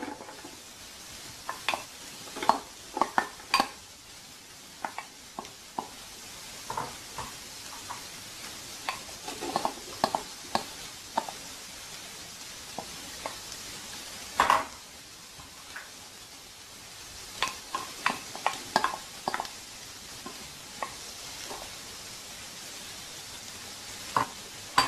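Onions and mixed vegetables sauté in a pan for egg fried rice. A steady soft sizzle runs throughout, broken by frequent scraping stirs and light clinks of a utensil against the pan, with no one talking.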